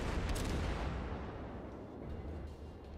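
Torpedoes launched from a warship in World of Warships, a dull, dense roar with muffled booming bursts early on that fades into a steady rumbling wash.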